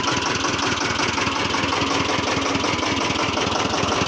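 A modified Gypsy jeep engine idles close by with a steady, rapid low knocking rhythm and constant rattle, loud and unchanging for the whole stretch.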